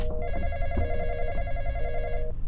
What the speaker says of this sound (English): Turn that off. Answer the phone.